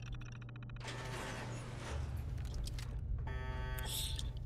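A security door in Fallout 4 grinds open with a mechanical creaking and whirring, then a brief run of rapid clicking, set over a low steady game hum.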